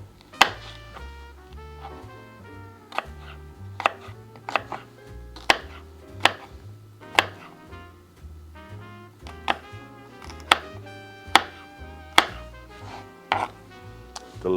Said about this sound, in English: And you dice it up.